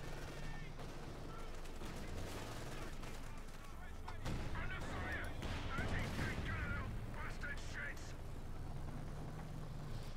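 Scattered gunfire and artillery in a Company of Heroes 2 match between Wehrmacht and British forces, distant shots and booms rumbling steadily under continuous commentator speech throughout.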